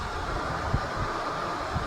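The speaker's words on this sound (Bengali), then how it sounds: "তো আমাদের ট্রেনটা ছেড়ে দিয়েছে।" A train pulls out and rolls along, heard from a door as a steady, faint rumble of wheels and wind with a few soft knocks.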